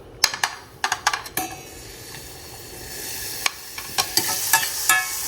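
Onions frying in a tablespoon of olive oil, with a few sharp clinks and stirring scrapes of a utensil against the pan over a steady soft sizzle.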